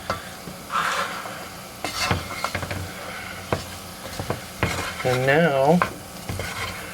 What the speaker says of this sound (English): Get it all mixed in good with the potatoes and the onions and the celery